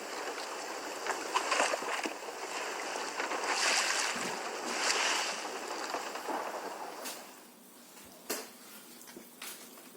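Gusting wind and crashing waves roar at sea, loud and rushing at first, then easing into quieter, intermittent splashes.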